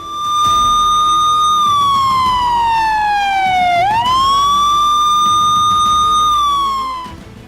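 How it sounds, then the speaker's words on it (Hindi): Wailing siren from a speeding ambulance escorted by several police vehicles, loud and close, its pitch sweeping slowly down and back up over a steady road rumble, with no talk. "तेज रफ्तार से एम्बुलेंस दौड़ रही थी, तो वहीं उसकी सुरक्षा में पुलिस की कई गाड़ियां चल रही थी"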